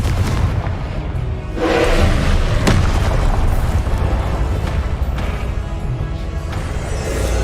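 Booming spell blasts from the Confringo curse in Hogwarts Legacy, a loud rumbling impact with sharp bursts repeating over a sustained roar of magical combat.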